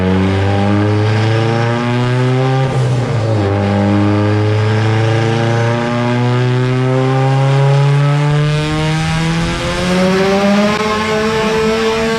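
Loud, sustained engine of a turbocharged EVO 9 revving hard through the gears on a run, rising pitch sweeps with a brief shift break, close and alone.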